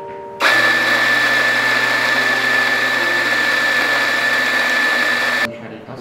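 A coffee grinder switched on with a single button press starts abruptly, runs at a loud steady whine with a constant high tone for about five seconds, then cuts off, with faint voices before and after.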